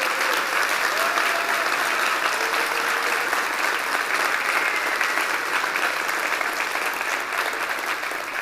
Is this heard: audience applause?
yes